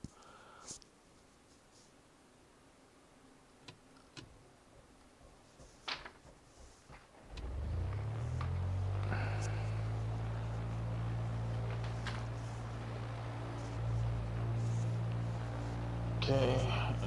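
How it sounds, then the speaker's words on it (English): A Piper PA28 light aircraft engine cranks and catches at an airfield, the quiet cockpit giving way to a loud, steady propeller drone that holds to the end with a slight rise near the close. "we'll start the engine"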